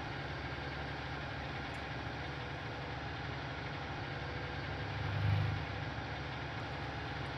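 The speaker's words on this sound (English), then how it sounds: "Our JCB is indeed struggling a little bit to pull these two trailers." A JCB in Farming Simulator 19 labours to haul two heavily loaded trailers across flat ground. The engine drones steadily and low, swelling slightly for a moment before settling, with no talking.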